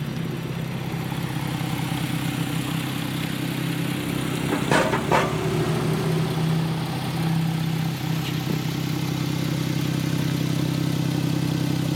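A 2017 Porsche 911 Targa 4 GTS engine runs steadily at a low, even idle from nearby, with a couple of brief sharper mechanical bursts midway and no talking.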